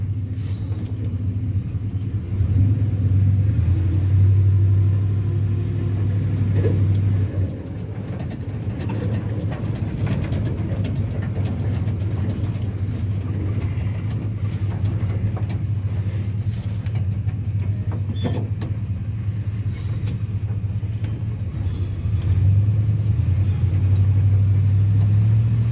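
A Dodge D200 pickup that sat off the road for 25 years idles and rumbles as it reverses, a steady low engine drone throughout with a few faint clunks, close and fairly loud.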